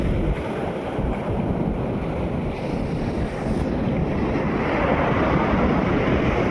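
Strong, cool southwest monsoon wind buffets the microphone with a constant roar, and the sea rumbles underneath, loud and unbroken throughout.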